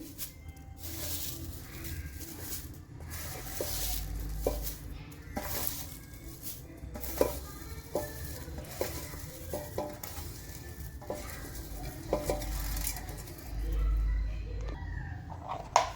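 Moringa leaves being stirred and roasted in a pan, giving a steady dry sizzle with repeated scraping strokes of the spoon, moderately close throughout.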